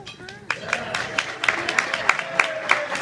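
Scattered hands clap in a brief, thin round of applause at an award presentation, individual claps distinct and fairly close, with a faint voice murmuring underneath.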